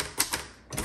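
Mechanical keystrokes and backspaces on a 1954 Hermes Rocket portable typewriter, a few crisp clacks in quick succession, close and clear with no talking.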